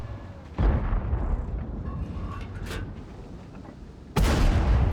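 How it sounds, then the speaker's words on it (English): A tank firing an HE shell in a tank battle game, played as the AMX M4 49 on Mountain Pass: two heavy booming cannon blasts, the second loud and sustained, separated by a few seconds of rumbling battle noise. "He's gonna take another HE shot from him."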